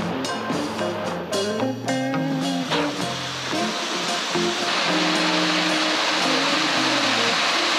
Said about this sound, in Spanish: vamos por la segunda cascada